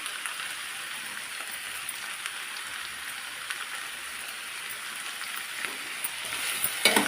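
Ivy gourd fries in a pan with salt and turmeric, giving an even, close sizzling hiss that is a little louder and has a few stirring clinks near the end. No one speaks.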